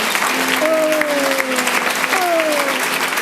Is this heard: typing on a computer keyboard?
no